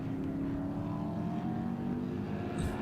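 A race car engine at a classic car race meeting fires up and idles roughly after spinning out in a corner, a steady mid-distance rumble with a brief rise near the end.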